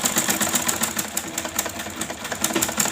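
A sewing machine stitches fabric in a steady, fast, evenly pulsing run. Its needle rhythm stays moderately close and continuous, with no talk over it.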